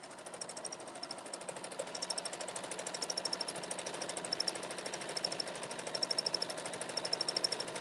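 A sewing machine free motion stitches with a free motion foot, a continuous rapid needle chatter with a regular pulse, close and fairly steady throughout.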